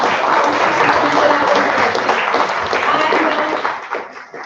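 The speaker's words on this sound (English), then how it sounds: "A huge round of applause first" An audience at a 12-year company anniversary celebration breaks into dense, sustained applause that fills the room, with scattered voices under the clapping before it begins to thin out at the end.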